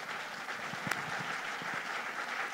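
An audience at a Christian testimony program applauds to acclaim the Lord: a faint, steady wash of many hands clapping at a distance, with no clear talking over it.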